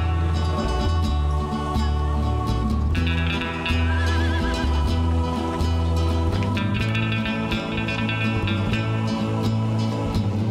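A horse neighs and whinnies over a busy, continuous background, with faint hoof clops as it is trotted around.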